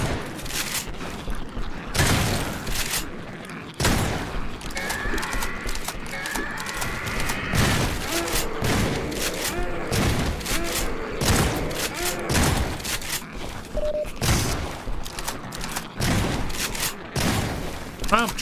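Gunfire from a weapon in Half-Life 2 cracks out in irregular, fairly loud shots and short bursts spread across the stretch, with game noise and occasional speech-like sounds between them.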